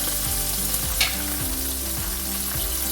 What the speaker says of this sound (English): and white onion and allow it then to saute for 2 minutes